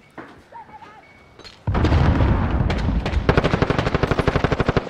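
Gunfire from a .50 cal sniper rifle in Call of Duty, the video game, starts after a quiet stretch and then turns into a dense, loud stream of shots. Rapid rhythmic reports follow toward the end, and no voices are heard.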